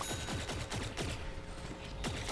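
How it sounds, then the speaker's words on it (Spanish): A semi-automatic zombie weapon fires in the video game Plants vs Zombies Garden Warfare 2, with repeated sharp shots in quick irregular bursts, close and loud over game noise. "yo creí que este zombidito su disparo era automático y es semiautomático"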